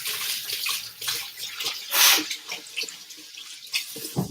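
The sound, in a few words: washing hands under a running tap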